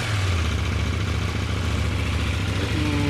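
A 2018 KTM 790 Duke on its stock exhaust runs at a steady, near idle, with a throbbing mid-low engine pulse holding evenly and no talk over it.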